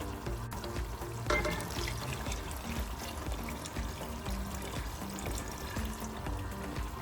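Yakhni stock poured into a pot of browned beef masala for Karachi-style beef pulao, a steady close liquid pour and splash with kitchen clatter, no talk.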